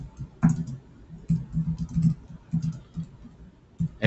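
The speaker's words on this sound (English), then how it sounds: "so you can type in your message down here," Typing a message into a feedback panel on a computer keyboard, soft close key clicks in short irregular bursts with brief pauses between them.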